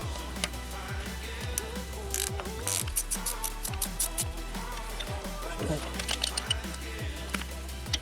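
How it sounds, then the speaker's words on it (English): A hand ratchet clicks in rapid repeated bursts while loosening the timing belt tensioner bolts on a Toyota 3.4L 5VZ-FE engine, close and metallic, with a low steady hum underneath. "next we pull these tensioner bolts"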